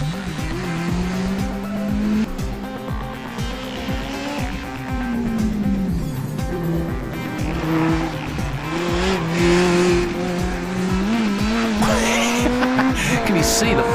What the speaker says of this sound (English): Listen carefully to those two engines